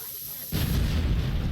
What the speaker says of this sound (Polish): to niech sobie tam wybuchnie